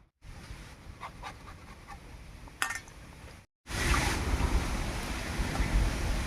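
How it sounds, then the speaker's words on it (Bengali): Sliced eggplant is rinsed in water with a steady wet swishing and splashing, a brief clink, a short pause, then a louder, fuller rush of water close by. "বেগুনটা কেটে একবারে ধুয়ে পরিষ্কার করে নিলাম"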